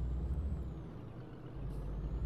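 A Scania truck in a truck driving simulator game rumbles with a heavy low engine drone, overlaid by a hissing burst of air brakes, steady and close throughout.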